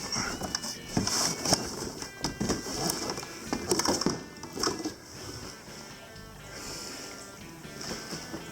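A Hitachi NR90AES1 nail gun is worked out of its cardboard packaging, giving close, irregular scraping, rustling and knocking sounds of cardboard and plastic that fade to quieter shuffling.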